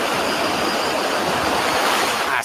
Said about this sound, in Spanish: las impresionantes olas que atrapan la atención de muchos turistas